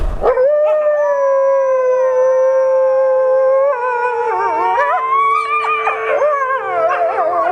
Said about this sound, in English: red wolves are lower pitched and their howling lasts longer